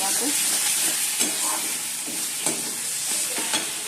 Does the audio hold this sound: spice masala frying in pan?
yes